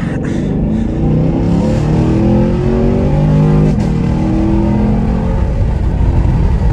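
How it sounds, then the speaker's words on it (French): A 500-horsepower car's exhaust roars loud and close as it accelerates hard, a steady deep rumble rising through the run with no talking over it. "En plus, t'as le son de l'échappement derrière."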